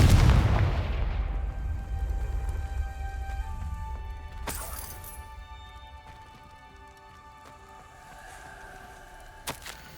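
Confringo spell exploding in Hogwarts Legacy, a deep booming blast at the start that decays over a couple of seconds into a low ambient drone, with a brief crackle later on.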